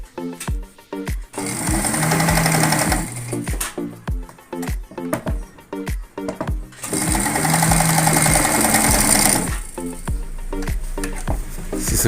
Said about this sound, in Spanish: ahí está cosiendo bien por la parte de abajo y está cosiendo bien por la parte de arriba